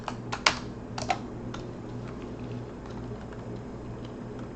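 A short word is typed on a computer keyboard, a quick cluster of close, light key clicks at the start and then a few scattered taps over a faint steady hum.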